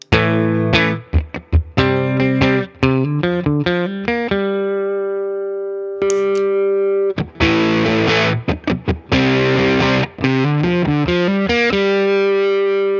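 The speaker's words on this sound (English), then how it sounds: "what an overdrive does is it introduces mild distortion to your guitar signal" An electric guitar with gritty overdrive plays chords and single notes, some ringing out and sustaining, with brief pauses between phrases.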